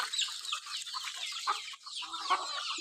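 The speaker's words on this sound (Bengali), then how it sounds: "ও যে দেখুন আমাদের মুরগিগুলো" Backyard chickens kept with ducks cluck and chatter continuously at a moderate distance, a soft, busy flock sound with no talking over it.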